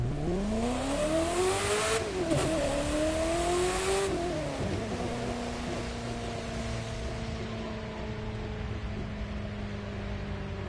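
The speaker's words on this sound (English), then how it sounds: "this car sounds like it's about to explode," A car engine in the racing video game The Crew 2 revs and sweeps up and down in pitch with a rough, buzzy, strained tone, then settles into a steady drone, loud and continuous with no talking.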